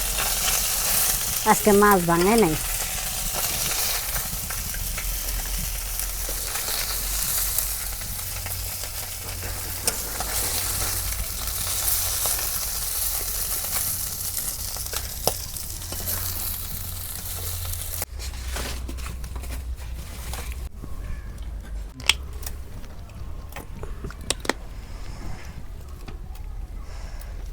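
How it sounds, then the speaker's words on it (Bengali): Pomfret fish fry in a pan with a continuous loud sizzle and crackle of oil and occasional sharp clicks from handling. A brief voice comes in early, and the frying noise thins and turns more clattery in the later part. "মাছ ভাজা হচ্ছে"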